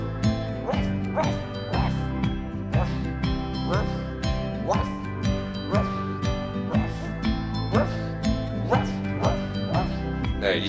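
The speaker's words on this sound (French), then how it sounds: "Naëlicia a un petit chien" Small dog barks in a bouncy French children's song, regular yapping accents woven through music with a sung voice and jingling percussion.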